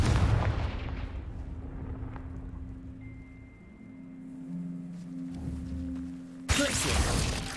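An explosive Confringo spell cast in the Hogwarts Legacy video game, a heavy booming blast that rumbles and fades, followed by a sudden sharp burst of crackling noise near the end.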